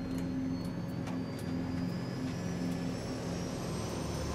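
Twin turboprop engines of a Swedish-built Saab 340 commuter airplane run at takeoff power, a loud, steady drone with a pulsing low hum and a high whine, filling the whole stretch with no talk.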